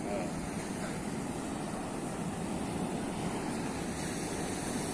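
Sea waves wash onto the shore in a steady, dense roar, close and fairly loud, with no break throughout.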